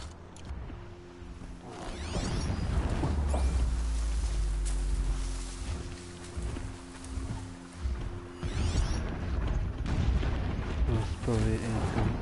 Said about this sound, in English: Explosions in the distance. Pay that no mind.